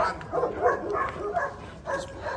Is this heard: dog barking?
yes